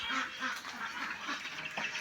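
Ducks on a simple duck farm quack in a quick, repeated series of nasal calls, close and fairly clear over a steady outdoor background.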